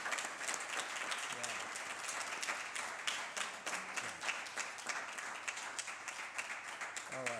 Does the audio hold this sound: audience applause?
yes